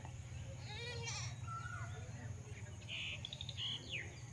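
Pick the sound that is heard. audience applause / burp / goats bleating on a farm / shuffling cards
goats bleating on a farm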